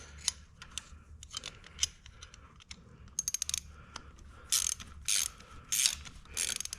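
Tools working on an ultralight airplane's fuel pump during removal: scattered metallic clicks, ratchet ticks and small scraping taps in irregular bursts, close and fairly quiet, with no talking.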